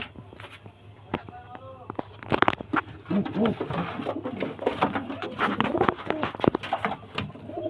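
Pigeons kept for sale by a hobby breeder coo softly and repeatedly nearby, with wing flutters and shuffling, while someone talks over them.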